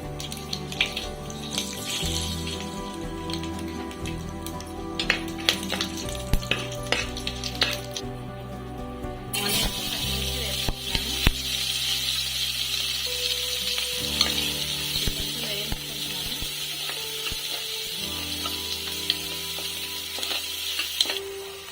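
Onions frying with biryani spices in a pressure cooker for egg biryani, a steady close sizzle with frequent scraping and clinking of a ladle stirring against the metal pot, no talking.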